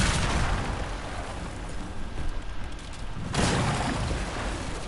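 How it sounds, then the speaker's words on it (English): A huge explosion in the video game Dragon Age Inquisition lays waste to a valley and its temple. It comes across as a loud, dense, continuous roar and rumble that swells again partway through and keeps going for several seconds. "What an explosion."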